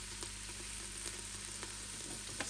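Garlic sizzling on the saute setting in an Instant Pot, a quiet steady crackling fry with faint pops, close and low in level, no voices.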